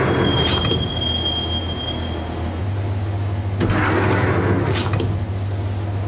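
Subway train in the Max Payne video game rolling on rails: a steady low rumble with high metallic wheel squeal early on and surging bursts of rail clatter, continuous and close, with no talking.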